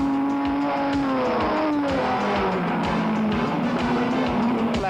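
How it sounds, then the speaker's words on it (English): Unlimited-class sports cars racing through the S bends at Mallory Park, an Aston Martin leading closely chased by another car, loud continuous engine roar with rising and falling pitch as the cars pass near. "here we show you them coming through the S's with John Dalton leading in his Aston Martin, being hard pressed by Ted Greenall"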